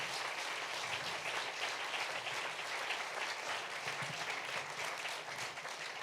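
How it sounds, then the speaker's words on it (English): An audience claps continuously for panelists stepping onto a stage at a women-in-business event, a broad, even roar of many hands sustained throughout and heard alone. "Big applause"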